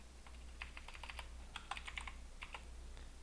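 Computer keyboard keys being pressed, including Enter, during CAD drafting work: a scatter of light, crisp clicks in small bursts over a steady low hum, fairly faint and with no talking.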